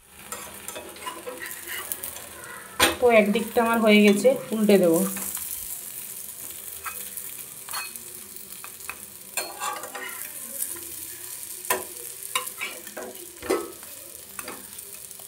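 Snack of flour, potato and egg frying in hot oil, a steady close sizzle with stirring and utensil clicks; a person speaks briefly over it early on.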